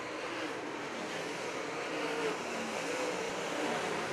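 Late model stock cars racing on an oval track during the final lap, a steady broad engine roar heard from a distance, continuous and fairly even with no voices.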